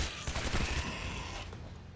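A machine gun fires in the video game Shadow Warrior: a loud, close, rapid burst of shots that fades off after about a second and a half.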